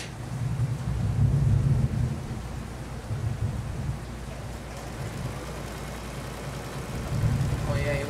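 A storm's thunder rumbles on without a break, a deep, rolling roar that swells and eases over several seconds beneath a constant rain-like wash.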